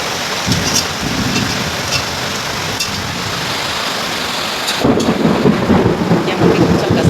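Heavy thunderstorm with steady, loud rain and rolling thunder, booming low rumbles building over the downpour and swelling louder near the end, with no voices.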